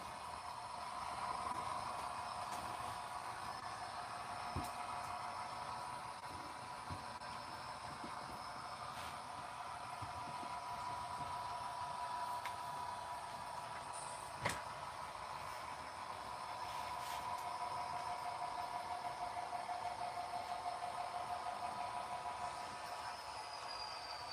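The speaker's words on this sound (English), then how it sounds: "A manifest train and 2 passenger Amtrak cars." A long manifest freight train with two Amtrak passenger cars rumbles steadily past at a distance, with a continuous rolling roar, faint metallic squeals and occasional sharp clanks.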